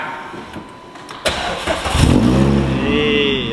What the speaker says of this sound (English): Right then, fire up